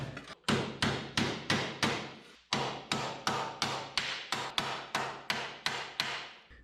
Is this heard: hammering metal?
yes